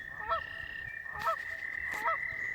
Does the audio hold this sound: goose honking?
yes